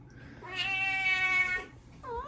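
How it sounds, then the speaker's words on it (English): A pet cat meows loudly during feeding time, one long drawn-out meow up close, followed by the start of a second shorter meow. "now I'm feeding my cats"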